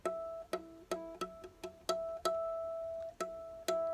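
Clear, bell-like ukulele harmonics are plucked with the thumb one at a time, about nine notes in a loose rhythm, each ringing briefly before the next.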